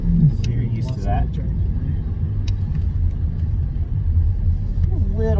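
C8 Corvette engine at a Ron Fellows owners driving school on the Spring Mountain track, a loud steady low rumble as the car accelerates on throttle, with people talking over it.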